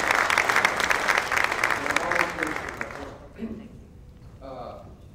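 A seminar audience breaks into a round of applause, loud dense clapping for about three seconds that then fades out, with a voice speaking as it ends.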